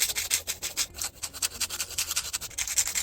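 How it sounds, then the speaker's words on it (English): An 80/80 grit hand file scrapes across nail tips, shaping them in quick, close, rhythmic back-and-forth strokes that give a dry, raspy rubbing sound. "I'll shape out the nail tips with the Panna 80x80 grit hand file"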